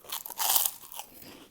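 Teeth bite into large, puffy, airy pork rinds with a sharp close crunch, followed by softer chewing that trails off, with no talking.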